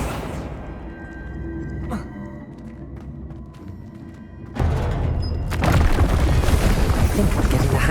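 Spell effects in Hogwarts Legacy, Depulso and Accio cast in turn, heard as bursts of whooshing and booming thuds that build into a louder rushing blast near the end.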